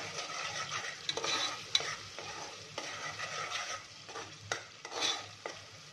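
Black masala paste being sautéed in a pan for prawn pulao, a steady close stir-frying scrape and sizzle with occasional clinks of a spoon against the pan, no voices.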